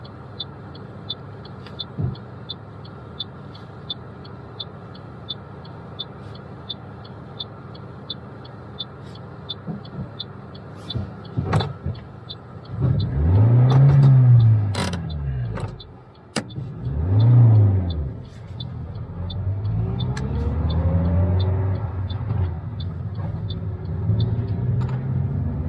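A learner driver's car jerks as it moves off from traffic lights during a mock driving test. A steady engine rumble swells into two loud, uneven surges, then settles into a continuous drone as the car pulls away.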